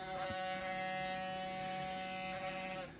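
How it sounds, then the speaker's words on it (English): Brushes on the bipolar ionizer of a Halo LED air purifier clean themselves with a faint, steady electric buzz and whir that hums evenly for about three seconds, close and alone. "the noise you heard, by the way, is just the brushes on the bipolar ionizer feature of this particular device cleaning themselves automatically"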